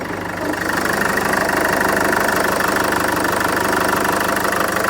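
A Land Rover Freelander 2 engine, fitted with a K&N cone air filter, idles steadily up close, a continuous low rumble with a faint rhythmic knock and no speech.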